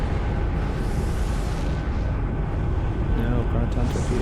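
A proton torpedo explodes in the Star Trek Online space game, a loud, sustained booming rumble with a dense low-end roar filling the whole stretch, and game sound effects layered over it.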